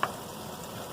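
A pot of chili with turkey and onion bubbles and sizzles steadily on the stove, in one short, even, close burst.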